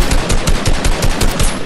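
Rapid automatic gunfire in the Fortnite video game, in a lava-floor sniper match, sounding as a loud, dense stream of closely spaced shots with brief pulses of bursts throughout.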